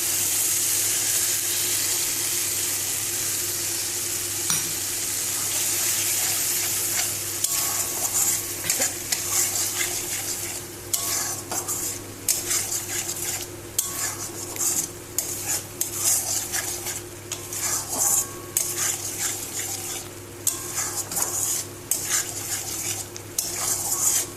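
Fried masala with cashew paste for egg korma is stirred in a pan, starting as a steady sizzle and then giving way to frequent scraping and clattering strokes of a spoon against metal, close by.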